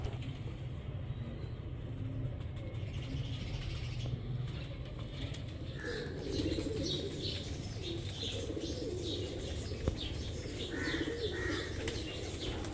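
Baby pigeons of Teddy and other breeds, soft cooing and chirping calls repeated irregularly nearby over a constant low background rumble.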